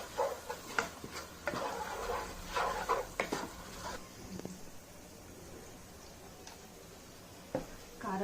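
Chili powder is stirred into a cooking pan with green chilies using a spoon, a run of faint metallic clinks and scrapes in the first few seconds, then quieter occasional taps in a quiet kitchen.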